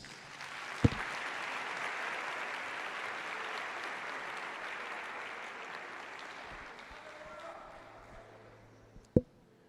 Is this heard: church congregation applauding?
yes